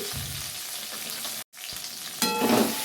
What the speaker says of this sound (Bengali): আর মশলাটা ভালো করে কষে নেব